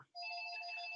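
A phone rings with a steady electronic ringtone, starting abruptly after a brief pause and sustaining loud and near for the rest of the moment, with no talking over it.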